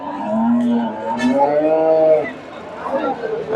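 A Friesian dairy cow at Dhaper Haat cattle market in Bogura gives a long, loud, drawn-out moo close by, with market chatter underneath.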